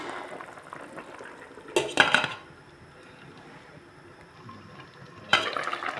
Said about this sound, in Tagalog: Ayan, takpan natin ulit guys.